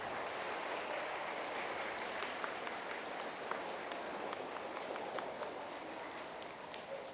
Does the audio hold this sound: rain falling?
no